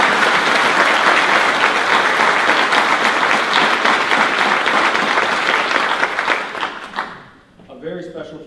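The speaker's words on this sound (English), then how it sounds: "How about one more round of applause for that national anthem?" Crowd at a Navy change of command ceremony at Naval Medical Center Camp Lejeune applauds after the national anthem, loud, sustained clapping that fades out near the end as a voice begins speaking.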